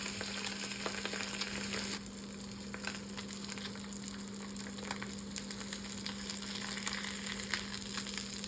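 Bream fillets sizzle and crackle steadily in a hot pan, a dense continuous frying hiss close up with no talking throughout.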